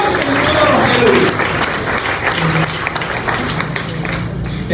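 Church congregation applauding during a sermon, loud sustained clapping from many hands with crowd noise and a few voices mixed in, gradually thinning toward the end.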